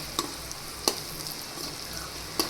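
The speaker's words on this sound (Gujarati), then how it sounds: "અને પછી મીઠું એડ કરી દઈશું અને તેને તેલમાં થોડીવાર માટે ચડવા દેશું" Carrots cooking in oil with salt for Gujarati cabbage-carrot sambharo make a soft continuous sizzle, with three sharp stirring taps spread apart.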